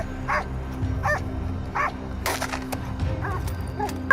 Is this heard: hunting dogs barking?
yes